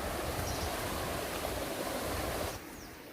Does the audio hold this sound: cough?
no